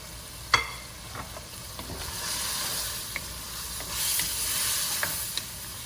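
Fresh coriander stirred into garlic pepper shrimp in a hot pan, a steady sizzle with a few sharp scraping clicks of the utensil, close and fairly quiet, no talking.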